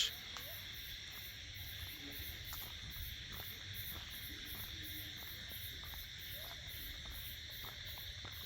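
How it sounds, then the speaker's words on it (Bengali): Crickets chirp in steady, rapid pulses against a quiet night backdrop in rural Bangladeshi village fields, faint and distant with a low hum underneath. "ঝিঝি পোকা ডাক শোনা যাচ্ছে"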